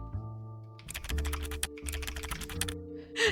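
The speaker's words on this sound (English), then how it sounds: "I can hear my own typing and the typing on." Rapid clicks of typing on a computer keyboard, brisk and close, run through most of the stretch over a soft background of steady game music, with no talking.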